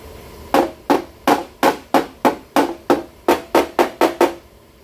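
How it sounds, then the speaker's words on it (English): A hammer beats on the metal car body of a 2023 Toyota RAV4 during structural repair. About thirteen sharp, ringing blows land at a steady, even pace, loud and close, with no talking. "Gotta hit this with the hammer."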